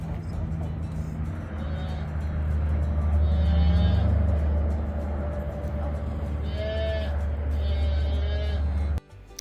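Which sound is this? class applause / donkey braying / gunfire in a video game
donkey braying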